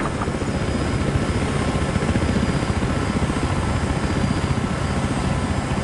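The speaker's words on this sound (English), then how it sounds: "Transport chopper sighted!" A transport helicopter flies in Battlefield Hardline, its rotor chopping in a steady, fast pulse under a continuous engine drone, fairly loud and close throughout with no talk.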